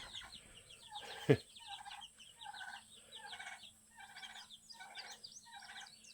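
Dozens of young chicks gather at a feeder, their soft repeated peeping and chirping forming a steady close chorus with brief bursts, plus one sharp knock partway through.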